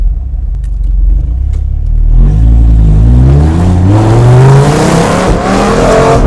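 A Dodge Viper SRT-10 V10 builds from a low idle rumble into a loud, rising rev as the car accelerates, with the deep exhaust note climbing steadily and close by.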